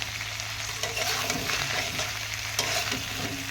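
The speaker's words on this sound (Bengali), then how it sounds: "দিয়ে ভালো করে কষিয়ে কষিয়ে রান্না করব।" Vegetables sizzle steadily in a pan while a utensil stirs and scrapes through them, with a constant low hum underneath.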